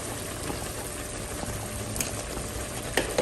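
Liquid with tuna bubbling and simmering in a pan, a steady low boiling hiss with occasional soft pops, close and fairly quiet, no talking.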